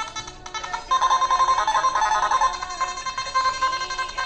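A mobile phone ringtone sounds in a room where a customer is being shown how to use a machine, a pulsing electronic melody repeating in steady bursts, moderately loud and close, with no speech over it.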